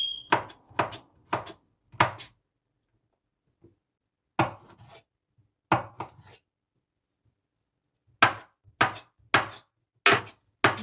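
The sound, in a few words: knife chopping radish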